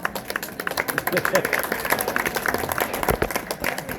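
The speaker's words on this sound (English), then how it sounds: "It deserves a round of applause." Applause and clapping from an audience fill the clip, with voices mixed in throughout.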